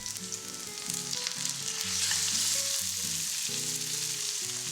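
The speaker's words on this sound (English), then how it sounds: "Break up and arrange it in a single layer to let the heat sear the meat" Beef searing in a hot wok with green onion, ginger and garlic, a loud dense sizzle swelling and holding steady while a melodic background tune plays underneath.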